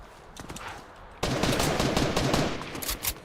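Gunfire in a Fortnite match: scattered single shots give way to a sudden loud burst of rapid automatic fire that keeps rattling close by.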